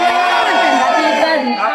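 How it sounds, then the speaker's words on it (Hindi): A dense temple crowd at Kaal Bhairav in Ujjain, voices chanting praises together in a steady, loud wash of many people close around. "गूंज रही है, जय जयकारे की आवाज।"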